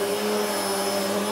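An Electrolux professional upright vacuum cleaner runs steadily in a television studio, a loud, constant motor whine with a fixed pitch across the whole stretch, heard on its own with no talking.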